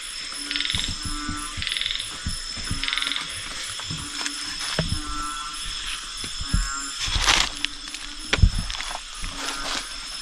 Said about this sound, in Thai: โอ้เสียงกบ